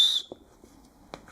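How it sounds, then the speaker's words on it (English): A shrill alarm whistle built into a Waterfly NATU backpack gives one short, piercing blast at the start, followed by faint small clicks and handling noises. "an alarm whistle built in for whatever reason."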